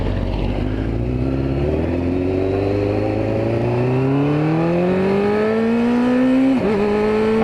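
A loud, close UTV engine revs under throttle, its pitch climbing steadily and smoothly, with a brief dip near the end before rising again.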